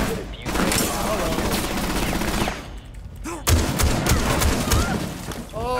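Rapid bursts of gunfire from a Rainbow Six Siege match crackle loudly and steadily throughout, with a short lull before a heavier, close volley resumes, and faint game voices mixed underneath.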